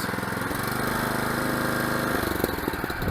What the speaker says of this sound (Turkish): Şimdi burada da aşağı indirdiğimizde gazı arttırıyoruz.